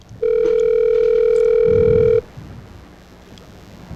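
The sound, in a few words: telephone ringing tone while calling McDonald's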